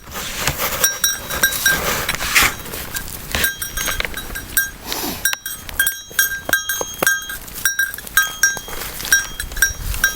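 Newly arrived goats, one male and one female, bleat near the mic in a winter farmyard, with rustling, clinks and handling noises around them and almost no talk.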